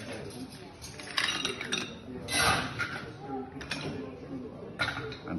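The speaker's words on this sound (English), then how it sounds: "And I'm going to give that a stir. Then I'm going to add ice." Ice clinks into an Old Fashioned whiskey cocktail in a glass and gets stirred, giving a few sharp clattering bursts and a steady rattle of cubes against glass and spoon, close up, with a voice talking over parts of it.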